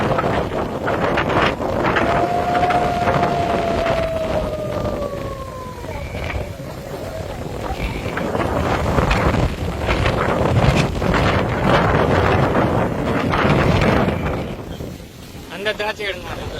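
Strong wind in hill country buffets the microphone with a continuous roaring rush, while a faint siren-like tone briefly sweeps through the noise.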